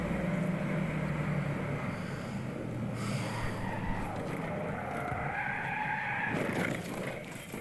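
Car skidding around a sharp mountain road bend, a sustained tire squeal and scraping roar at moderate loudness for several seconds, no talking.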